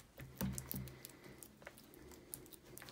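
Soft, squishy patting and pressing as fingertips push butter into brioche dough by hand, with irregular close taps and sticky squelches at low volume.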